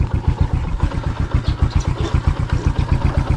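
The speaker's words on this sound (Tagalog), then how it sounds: "Yan, magmotor na lang tayo." A motorcycle engine runs close by just before a ride, chugging in a fast, even low pulse that stays loud and steady throughout.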